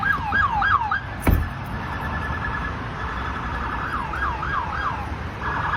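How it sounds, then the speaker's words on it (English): Police sirens wail in rapid rising-and-falling bursts, fairly distant, with a brief sharp knock early on. "You hear the sirens"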